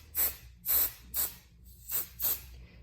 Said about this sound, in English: I'm just going to use 505 spray because it's much quicker. Just give it a couple of good splurts.